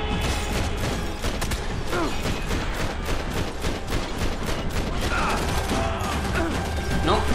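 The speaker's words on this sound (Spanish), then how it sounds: "me tienen que dar todos esos tiros así." Rapid bursts of gunfire crackle continuously in a Max Payne 3 firefight on PC, with layered shots, mechanical clatter and impacts mixed under game music, with no pause across the stretch.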